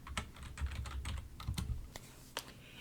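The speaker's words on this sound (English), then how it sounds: "So I'm going to type in Mickey" Quick, uneven keystrokes clatter on a computer keyboard, close and fairly quiet, in short bursts with small pauses between them.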